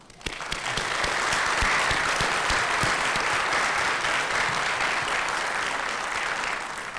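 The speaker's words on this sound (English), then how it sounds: "And maybe a big round of applause for you guys." Sustained applause from a graduation ceremony audience at a high school class of 2025 event, swelling quickly into a thick, even roar of many hands and easing slightly at the end.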